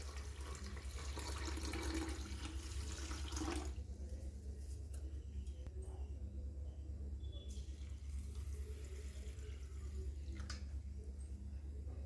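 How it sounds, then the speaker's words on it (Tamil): Water poured onto soaking mappillai samba rice and urad dal with fenugreek, a steady broadband splash for about four seconds that then settles into quieter trickling and drips, close up in a kitchen. "இப்போ நம்ம இந்த அரிசியையும் உளுந்தையும் தண்ணி ஊற்றி ஊற வச்சுக்கலாம்."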